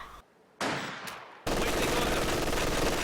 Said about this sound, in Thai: สไนเปอร์ครับโดน MG2 ยิงโกดอีกแล้วฮะ